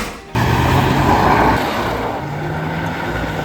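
A 1985 Mercedes-Benz W126 sedan pulls away and drives, its engine and road noise swelling into a loud, steady rumble heard from inside the cabin.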